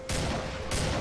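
Pistol fire in the video game Killing Floor: two sharp, loud reports about half a second apart over steady background game noise.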